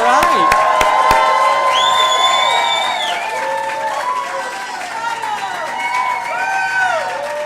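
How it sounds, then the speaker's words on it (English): A studio crowd at Nasdaq claps and cheers loudly at an awards ceremony, sharp claps at the start giving way to sustained whoops, high-pitched shouts and excited voices, close and lively throughout. "the louder they clap and cheer, the higher the market goes up"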